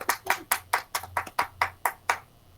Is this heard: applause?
yes